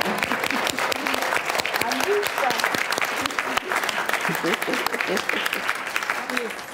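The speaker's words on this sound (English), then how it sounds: "needs a big round of applause, please, for Alicia Bison." Steady, loud audience applause at an International Women's Day panel discussion, many hands clapping continuously throughout with a few voices and cheers mixed in.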